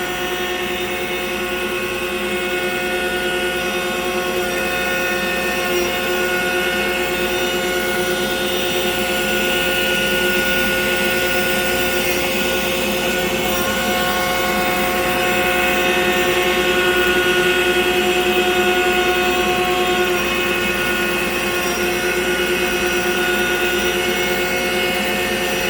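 An Altmill CNC router mills a workpiece, cutting 1.3 millimeters with each pass to a depth of 7/16, a loud, constant whining spindle drone with steady tonal hum and cutting noise throughout.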